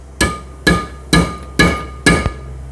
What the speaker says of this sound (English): just tapping on each one real slightly